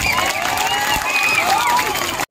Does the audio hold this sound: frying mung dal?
no